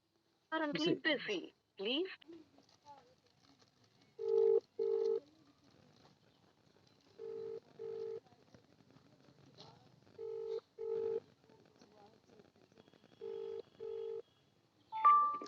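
A phone being dialed before a call to a village head sounds a series of clean touch-tone beeps in short paired bursts spread across several seconds, following a few spoken words at the start in a quiet setting.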